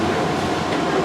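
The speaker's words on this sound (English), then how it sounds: "This train is departing." Airport train at Denver International Airport pulls away from the concourse station, a loud steady rumble of wheels and motors heard from inside the car, with no voices.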